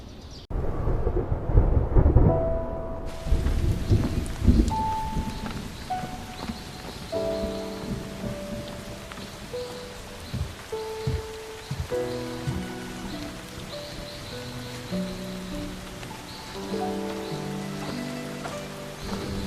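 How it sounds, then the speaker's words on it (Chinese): Light rain patters steadily outdoors in a period drama scene, a soft continuous hiss with a louder rumbling rush near the start, layered under a gentle melodic music score without speech. "这样的小雨，也不算什么"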